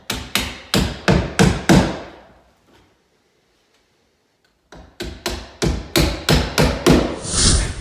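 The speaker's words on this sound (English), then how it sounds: "it's not totally necessary to nail this up, but I like to just for extra security" Hammer strikes drive nails through metal drywall corner bead, a quick run of five sharp, ringing blows, a pause, then eight or nine more in steady rhythm, close and loud.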